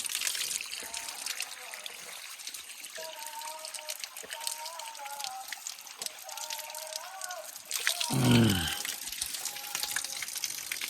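Water from a forest spring trickles and splashes steadily through a small wooden channel, close and continuous, with a voice talking over it and a brief louder gush near the end.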